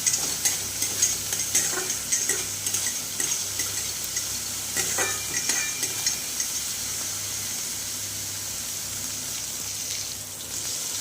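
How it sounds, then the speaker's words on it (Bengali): Cumin and Kashmiri chilli powder sautéing in a pan for a cauliflower, potato and paneer dish, a bright steady sizzle with rhythmic stirring scrapes, busier at first then settling. "তার সাথে জিরের গুঁড়ো, আর দিয়ে দিলাম হচ্ছে কাশ্মীরি লঙ্কার গুঁড়ো। দিয়ে মশলাগুলোকে এবার ভালো করে একটু কষিয়ে নেব।"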